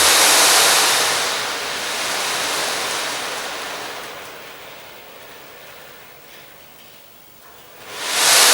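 An ocean drum tilted back and forth, its loose beads washing across the head in a loud, breathy surf-like swell that fades to a softer hiss and then surges again at the end.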